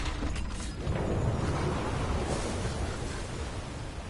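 A water release mechanism activates in the God of War video game, giving a broad rushing, churning roar of water and grinding machinery that stays loud and steady throughout, with no talking.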